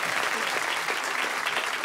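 Studio audience bursting into brief applause, a dense, bright and steady patter of many hands clapping at close range, continuous for under two seconds.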